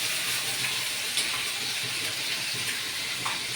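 Green chili paste frying in hot oil in a pan, a steady close sizzle with faint stirring scrapes throughout.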